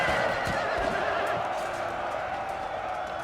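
Game horses neigh and whinny amid a steady battle din in Napoleon: Total War, with faint hoof clip-clop mixed into the continuous loud background.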